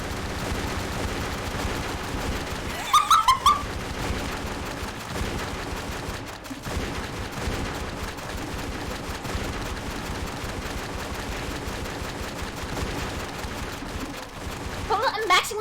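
Gunfire in The Walking Dead video game, fired with unlimited ammo, with brief bursts of shots standing out near the start and again at the end, over continuous game noise.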